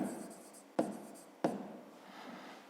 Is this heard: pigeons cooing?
no